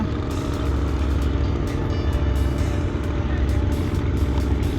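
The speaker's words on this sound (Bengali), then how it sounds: "এই যে একটা মাছ ধরার নৌকা দেখেন" A fishing boat's motor passes on a river, a close, steady mechanical drone with faint clattering, heard alone without clear talk.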